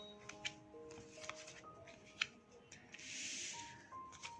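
Tarot cards are shuffled and laid out for a reading, with soft close flicks, taps and a longer riffling rustle near the end, set against a faint steady hum.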